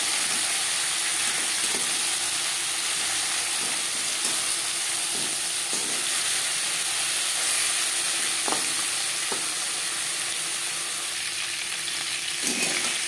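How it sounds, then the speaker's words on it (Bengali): Fish head frying in hot oil in a wok, a steady, dense sizzle held for the whole stretch, with a few soft clicks and stirring knocks breaking through now and then. "একটা সাইড মাথা ভাজা হয়ে গেলে অপর সাইডটা উল্টে দেবো"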